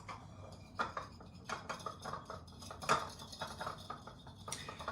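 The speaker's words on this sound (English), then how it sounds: "And you want to mix up the yolk into the white." Eggs whisked in a bowl to blend yolk into white, a quick irregular series of light clinks and taps from the utensil against the bowl, close and fairly quiet.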